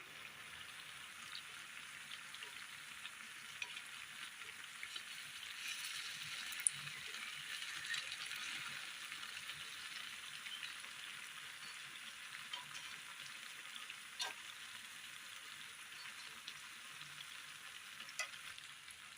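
Soft, continuous sizzle of unniyappam frying in hot oil, a faint steady crackle with occasional small pops, heard alone at low volume.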